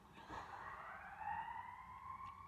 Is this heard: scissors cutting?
no